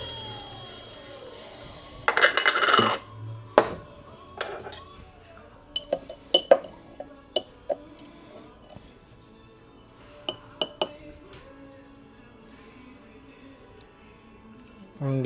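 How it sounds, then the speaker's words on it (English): A jewelry tumbler finishes polishing a handmade open wedding band, giving scattered metallic clinks and rattling taps over a quiet background, with a louder burst of jangling near the start and sharp isolated ticks afterward. "Tumbler's finishing up."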